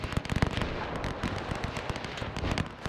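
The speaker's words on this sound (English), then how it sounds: "That's a lot of concentrated fire coming from over here." Dense World War I gunfire in the game Between Empires, with a machine gun and rifles crackling in rapid, irregular bursts. The shots are thick and steady, somewhat distant and muffled.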